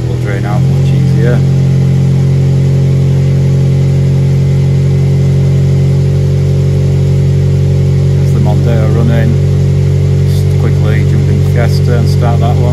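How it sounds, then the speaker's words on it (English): Two cars, one a Ford Fiesta, idle to warm up after starting, a loud, steady, close engine drone with a constant low hum throughout, while someone talks briefly at the start and again later. "we'll start here by starting both the cars to warm them up."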